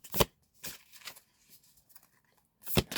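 A brand-new tarot deck is shuffled in three crisp, riffling bursts, close and loud, with brief rustles between them and no voices.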